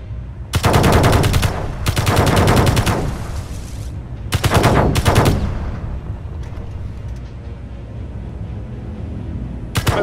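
Rapid bursts of automatic gunfire in the space video game Space Engineers, three loud volleys in the first half followed by a fading rumble and scattered faint shots.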